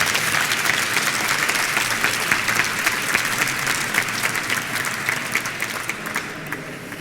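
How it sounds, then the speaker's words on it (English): An audience claps steadily for about seven seconds to welcome the next speaker at a conference talk on phone phreaking, a dense even wash of applause that thins slightly near the end. "Please, a warm applause."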